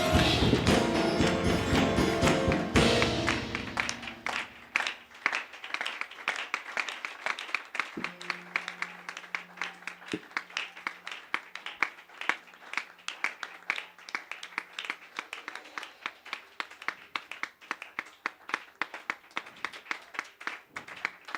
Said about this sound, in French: Si nous commençons à acclamer, on ne va pas s'arrêter.